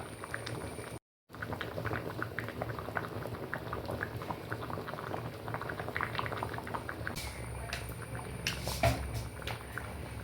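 A pot of Kerala-style curry bubbling steadily on a gas stove, with a continuous close simmering crackle and soft popping that goes on alone and never lets up.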